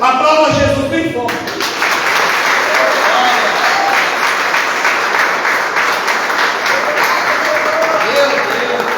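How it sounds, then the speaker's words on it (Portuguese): A church congregation at a communion service breaks into strong, sustained applause, dense clapping from many people filling the room, with a preacher's amplified voice briefly heard at the very start. "Aplauda Jesus bem forte."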